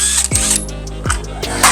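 A ratchet with an 8mm deep socket works loose the radiator cover screws on a Honda ADV160 scooter, giving loud, close clicking with a few sharp metallic knocks between runs of ratcheting, and no voices.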